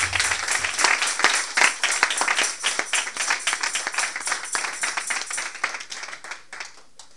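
A church congregation claps in praise during a sermon, with many hands producing sharp, rhythmic claps that swell early on, then continue in uneven bursts and thin out toward the end.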